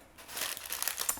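Baking paper crinkling as it lines a baking tray for oven-baked trout, a close rustling crackle that grows busier and louder after a quiet start, with no speech.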